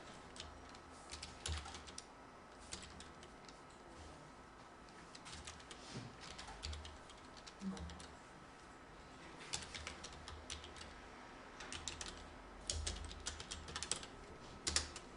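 Computer keyboard keys clacking as text is typed, with quiet, close, irregular bursts of keystrokes and short pauses between them, and no talking.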